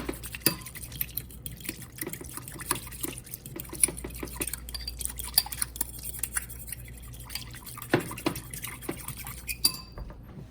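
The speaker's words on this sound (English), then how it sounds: "Now, stir everything together." Spoon clinking and scraping against a bowl while stirring teriyaki chicken ingredients, a quick irregular patter of small taps and wet sounds, close and fairly quiet with no talk.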